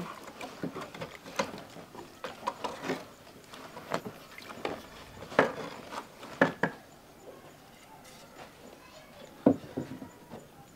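Sugar is stirred into a biofertilizer solution in Trarza, Mauritania, giving irregular knocks, taps and scrapes against the container at a moderate level over a quiet background.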